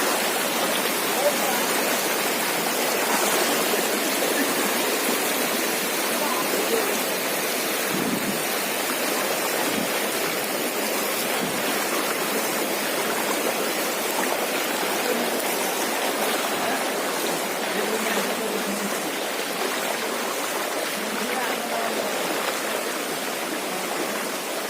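Floodwater rushes fast past village houses with a dense, continuous roaring wash that stays loud and unbroken throughout.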